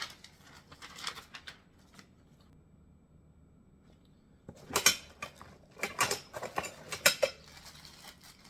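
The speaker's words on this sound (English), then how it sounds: "So it has its own bag of tools and screws and bolts." A bag of metal tools, screws and bolts for a racing wheel stand is handled and shaken, with scattered jingling clinks, a quiet pause, then a busier burst of rattling metal.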